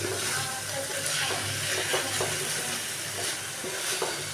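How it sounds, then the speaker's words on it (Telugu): Spoon stirring drumstick curry with masala paste and chilli powder in a sizzling pan before mutton goes in, a continuous loud frying hiss with soft scraping scrapes and gentle clatters, no talking. "ఒకసారి బాగా తిప్పుకొని"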